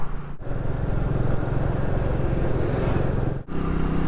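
A Royal Enfield Meteor 350 motorcycle cruising at speed with a steady, close engine drone and wind rush, briefly cut by two short dropouts near the start and end.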